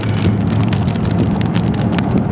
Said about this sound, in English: I'd love to get out of this rain.